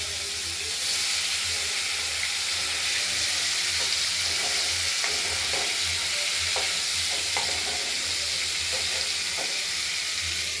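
Boal fish frying in hot oil in a Bengali kitchen, a steady dense sizzle running throughout with occasional crackles and pops, close and moderately loud, no voices.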